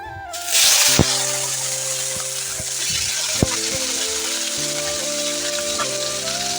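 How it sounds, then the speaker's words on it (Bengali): Bay leaf and panch phoron spices hit hot oil with a sudden loud sizzle that settles into steady frying, punctuated by a few sharp utensil clinks. "প্রথমে আমি তেজপাতা দিয়ে দিয়েছি আর এখন দুটিখানি দিয়ে দিচ্ছি পাঁচফোড়ন"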